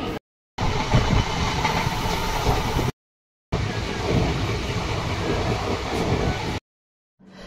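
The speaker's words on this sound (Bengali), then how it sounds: "বন্ধুরা এখন ট্রেন কটক স্টেশনে ঢুকে গেছে।" A passenger train rolling into Cuttack railway station, heard from inside as a continuous rumbling, rattling carriage noise with faint clatter, broken by two short silent gaps.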